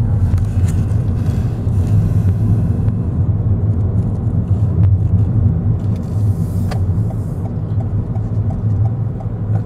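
Car driving near Alçıtepe village in Eceabat, Çanakkale, its steady low engine and road rumble filling the whole stretch with no speech.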